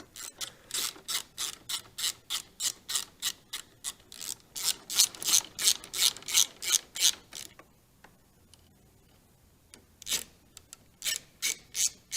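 A hand ratchet snugs the bolts of 13-inch Road 6 Customs bagger handlebars on a 2014-or-newer motorcycle, giving rapid close runs of clicks, then a pause and another burst.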